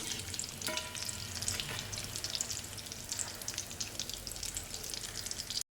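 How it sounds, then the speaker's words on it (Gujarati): Steady crackling sizzle of vada deep frying in hot oil, continuous and close, with no talking. "સરસ બ્રાઉન કલર થાય ત્યાં સુધી આપણે એને તળી લઈશું"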